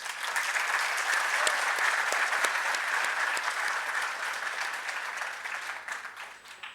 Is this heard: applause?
yes